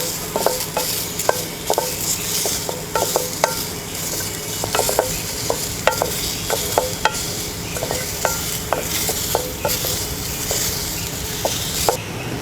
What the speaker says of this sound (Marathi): कांदा भाजते।